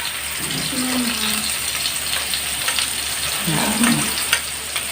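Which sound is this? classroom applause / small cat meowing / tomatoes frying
tomatoes frying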